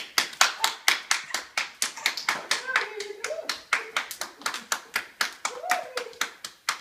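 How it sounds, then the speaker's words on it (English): A steady run of sharp hand claps, close and loud, repeating in a quick, even rhythm for several seconds with a voice faintly underneath. "Everybody clap your hands."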